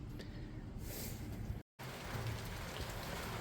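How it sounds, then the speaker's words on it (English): Steady, dense rain hisses evenly throughout, close and fairly loud, with a brief moment of total silence partway through. "Rain, rain, rain."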